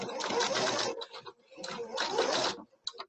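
A sewing machine stitches over piping cord in two quick bursts of rapid mechanical whirring, separated by a short pause and followed by a few faint clicks, close and fairly loud with no talking.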